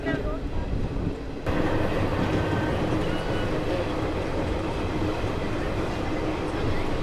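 The Madras Mail superfast express from Chennai Egmore to CSMT Mumbai rumbles along the rails, a steady close roar of wheels and carriage noise that swells louder after a quiet first second and continues without a break.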